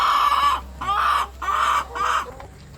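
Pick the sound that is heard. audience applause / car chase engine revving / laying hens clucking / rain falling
laying hens clucking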